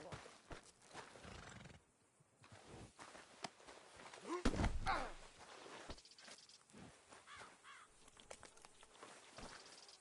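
A horse in Red Dead Redemption 2 whinnies loudly amid clip-clopping hooves and rustling movement, with a bird cawing nearby.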